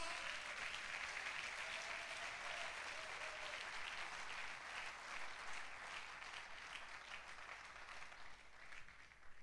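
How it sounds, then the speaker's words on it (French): A church congregation applauds loudly and steadily for several seconds, a dense wash of clapping that fades slightly toward the end. "acclamons très fort"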